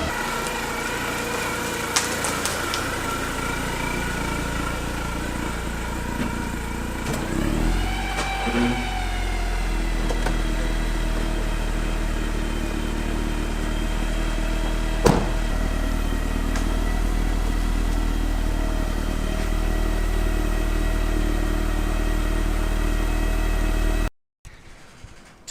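An engine idles and runs steadily, with a low rumble and a faint whine, through a short drive around the block in either a Chevy Colorado ZR2 or a Mercedes-Benz 190E after repair work. A sharp clatter comes midway, and the sound cuts off abruptly near the end.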